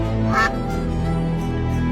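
A duckling gives a single short quack near the start, set against a steady, droning tonal background.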